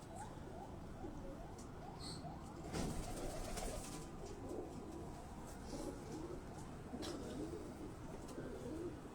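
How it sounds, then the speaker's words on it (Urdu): Pigeons coo steadily in low, throaty repeated calls from their separate rooftop coop compartments, several birds overlapping, over a constant background hum with occasional faint chirps. "یہ آپ دیکھ رہے ہیں کہ کبوتر جو ہیں وہ الگ الگ اپنے اپنے خانوں میں"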